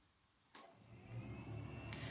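Harrison lathe driven by a VFD starts from silence and settles into a steady running hum at 90 RPM, with a constant high electronic whine from the drive throughout, close and moderately loud.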